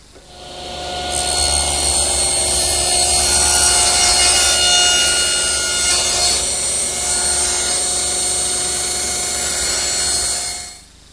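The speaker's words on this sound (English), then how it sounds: "I have to take this first one and cut it at a 15-degree angle to match this angle." A power saw cuts through a tongue and groove board at a 15-degree angle in a woodworking shop, its motor spinning up into a loud, steady whining cut for about ten seconds before winding down.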